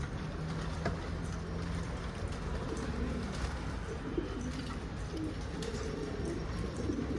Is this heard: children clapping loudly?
no